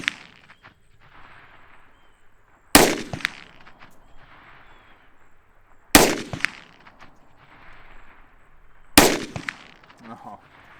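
A pistol fired at long-range targets cracks out three sharp, loud shots spaced about three seconds apart, each with a short echoing tail, and faint voices murmur in between.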